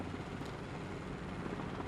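Helicopter blade slap from a Cowan helicopter in the video game MSFS 2024, a steady, loud rotor thrum with rhythmic low chopping throughout, no voices.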